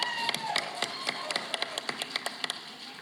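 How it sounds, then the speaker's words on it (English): A stage audience gives scattered, fairly faint hand claps to welcome an actor. The claps come as a loose, steady patter of single sharp slaps rather than a full roar. "Let's welcome with a big round of applause"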